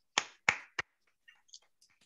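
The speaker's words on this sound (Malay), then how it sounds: "Okey, jom kita tepuk tangan." A small group in a communication course claps together on a count, giving three sharp, close claps in quick succession, then a few faint scattered taps in a quiet room.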